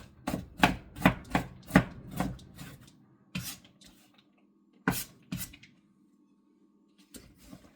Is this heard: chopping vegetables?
yes